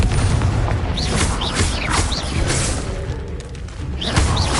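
Spell blasts and booms from a wizard video game on PS4, a dense run of loud explosive bursts and whooshes with no pauses, under constant game noise.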